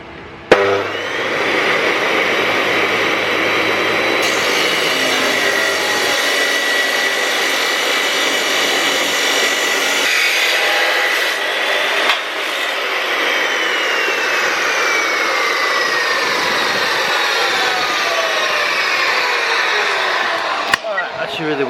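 A cutting tool slices through a part while intercooler piping is routed on a K20 turbo build, a loud, continuous, high-pitched whine lasting about twenty seconds with shifts in pitch as the cut progresses.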